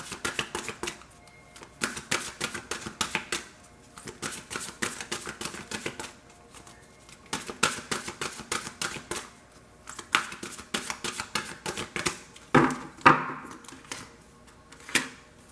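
Thick tarot cards being shuffled by hand in repeated bursts of crisp riffling and flapping, close and fairly loud, with short pauses between rounds and a few sharper slaps near the end; no one speaks.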